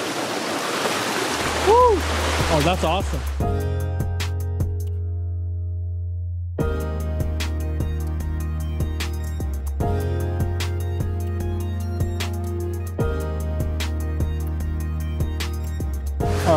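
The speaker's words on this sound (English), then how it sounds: "You can hear it. We made it to the waterfall." A waterfall in the Swiss mountains roars with a steady, broad rush of falling water throughout, a loud continuous wash with brief dips, while a person whoops and speaks excitedly over it near the start.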